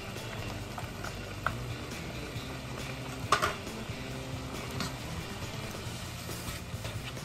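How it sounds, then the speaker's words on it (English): Meat browns in a pan with onions and green peppers for lasagna, giving a constant soft crackling hiss with an occasional light clink of a utensil. "now we're just going to let those veggies get tender and let our meat brown"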